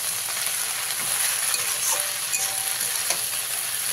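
Water spinach (kolmi shak) is stirred in a frying pan, with a soft steady sizzle and intermittent rustling, scraping strokes of the spoon through the greens, close and moderately quiet, with no voices.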